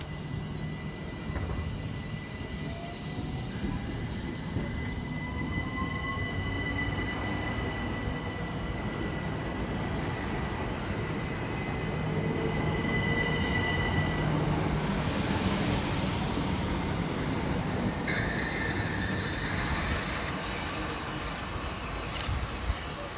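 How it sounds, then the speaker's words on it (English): Southern Railway class 377 units 377318 and 377308 roll through South Bermondsey on a London Bridge to East Croydon service, a long steady rumble of wheels and traction motors that swells mid-pass with faint whines and squeals before easing. "Next train out to depart is 377318 and 377308 with the 1536 Southern Railway service from London Bridge through to East Croydon"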